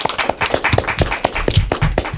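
Audience at an elementary school derby event gives a round of hand claps, individual claps distinct and fairly close in a quick, uneven patter.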